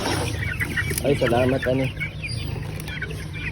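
Large dispersal chickens from a provincial livelihood program in Davao de Oro cluck close by, in a burst of throaty calls over steady background noise, while a person speaks briefly.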